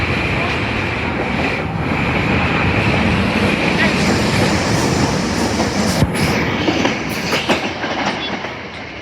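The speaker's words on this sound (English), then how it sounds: "That was the late train." A late-running train passes through Fern Rock station, a steady loud rumble with rhythmic clickety-clack of wheels on rail joints, continuous throughout and nearby; faint voices are mixed in.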